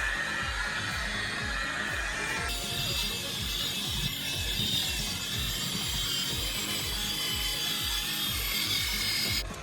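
Polishing machine buffing wax onto oxidized RV gel coat, a steady rubbing whir with a rhythmic back-and-forth pulse, close and continuous throughout, with a brighter high hiss after the first few seconds.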